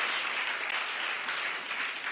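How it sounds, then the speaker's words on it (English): Steady applause from an audience at a startup pitch event, dense clapping that fills the whole stretch at an even level with no voices standing out. "Big applause for Victor Mane,"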